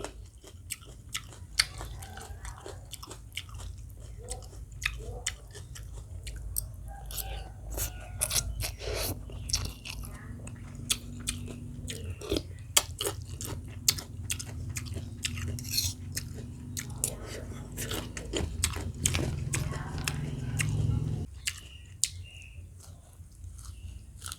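Crunchy fried fish being chewed up close, a steady run of crisp bites and crunches carrying on for over twenty seconds without any speech over them.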